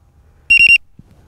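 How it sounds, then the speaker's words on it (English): Three loud, high-pitched electronic beeps in quick succession from a low voltage battery alarm on an XProHeli XP2 drone, close and clear, followed by a faint soft thump. "See that loud beep?"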